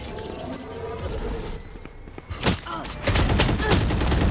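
Gunfire rattles through a competitive shooter video game match in bursts, mixed with game effects and growing louder toward the end.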